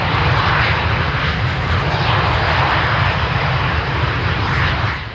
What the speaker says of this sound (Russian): Легкие реактивные штурмовики Л-39 уносятся в небо под аплодисменты зрителей